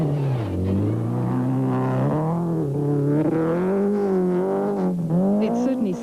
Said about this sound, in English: Daewoo's 16-valve motors produce more power than any other at the moment.